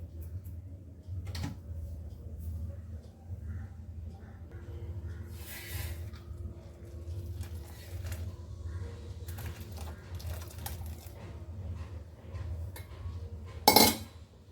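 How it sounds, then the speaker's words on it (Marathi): A spoon stirring stiff hot-water flour dough in a metal vessel for Konkani kombadi vade, with faint intermittent clinks and scrapes over a low background hum and a sharp knock near the end. "एखाद्या भांड्याच्या चमच्याच्या वगैरे साह्याने तुम्ही हे थोडं थोडं हे पीठ ढवळून घ्या"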